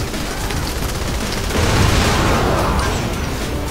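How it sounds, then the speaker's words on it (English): A small gun fires in Saints Row: The Third, a dense, roaring burst of rapid gunfire and blasts that fills the whole stretch and swells louder toward the middle. "How is a small gun like this actually doing that?"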